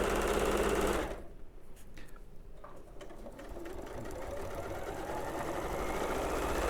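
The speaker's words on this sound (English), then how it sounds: "It's also going to be easier for sewing around that curved edge." A sewing machine stitches a curved seam on the flap of a messenger bag, starting with a loud burst and then running in a steady close mechanical whir.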